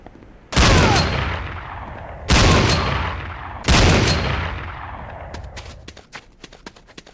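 Three loud, booming gunshots at a firing range in Command & Conquer: Renegade, each with a long decaying echo, followed by a quicker run of sharp, lighter shots.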